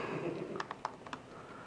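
Quiet clicks of keys being typed on a computer keyboard, a short burst of a few taps over faint background hiss.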